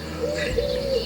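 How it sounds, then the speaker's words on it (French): Outdoor bird calls at sunrise, cuckoos giving a soft sustained call over steady background ambience, moderately near. "Vous entendez les coucous?"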